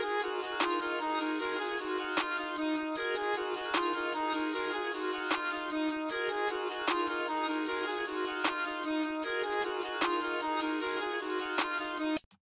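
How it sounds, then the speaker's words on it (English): An open hi-hat pattern programmed in FL Studio for a hard trap beat, with regular bright, sizzling hits in a steady rhythm over a sustained melodic loop, loud and continuous before stopping abruptly. "I went in and I put in this open hi-hat pattern."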